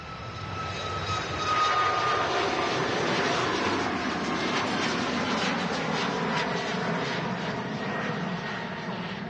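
A Ryanair jet airliner departs Manchester Airport bound for Palma, Mallorca, its engines producing a steady, loud, broad roar that holds for several seconds, heard alone outdoors.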